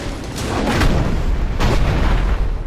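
Cannon fire and explosions in the video game Dungeon Siege III: a loud, dense series of booming blasts with rumbling decay, two sharper bursts standing out, alone without speech.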